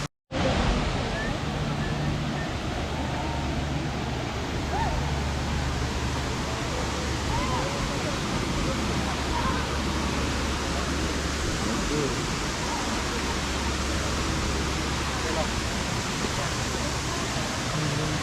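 Rainbow Falls at Kerikeri in New Zealand pours down as a steady, dense roar of falling water, heard close and loud, unbroken for the whole stretch.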